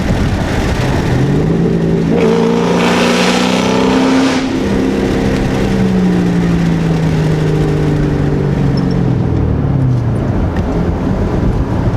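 A loud, stock Ford Mustang 3-valve V8 drives through an underpass, its engine note swelling and rising under acceleration, then holding a steady roar over heavy wind noise, with no talk.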